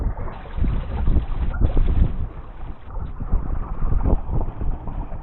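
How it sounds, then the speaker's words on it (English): A wind gust buffets a sailboat under sail in torrential rain, a loud, rough, continuous roar of wind noise and rushing water that swells and eases over several seconds, with no talking. "A little bit of a gust there as well"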